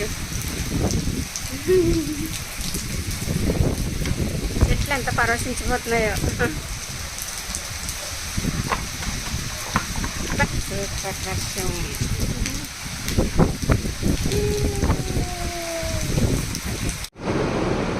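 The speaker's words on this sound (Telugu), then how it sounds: "లేదు జల్లు పడుతుంది" Outdoor rain drizzling steadily onto trees and surfaces in a constant hiss, with people talking and birds calling over it throughout.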